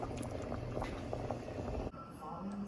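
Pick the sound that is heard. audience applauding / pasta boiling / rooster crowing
pasta boiling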